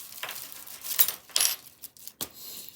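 Small metal reciprocating saw blades clink and rattle faintly inside a little bag being opened, a few light, sharp metallic taps spread over about three seconds in a quiet room.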